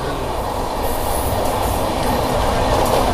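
The Rani Shiromani Express, a passenger train on Indian Railways, passes close by with a loud, steady rumble of wheels and carriages on the rails, heard alone and building slightly throughout.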